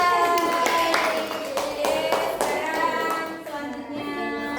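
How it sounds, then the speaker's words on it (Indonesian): A primary school class claps in a quick burst of separate, sharp hand claps, with children's voices chattering underneath. "Tepuk tangan untuk Mbak Dila."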